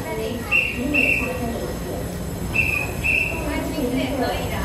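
An EMU3000 twelve-car electric train passes on the Hualien–Taitung line, a loud steady rumble of wheels on track with repeated high squealing tones, heard close with a voice speaking over it.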